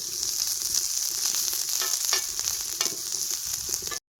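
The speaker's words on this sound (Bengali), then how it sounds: "আর সরষা দেখেন বেশ সুন্দর ভাজা ভাজা হয়ে গেছে" Black mustard seeds and crushed garlic frying in mustard oil on a tawa, a close, continuous bright sizzle with faint crackles throughout that stops abruptly.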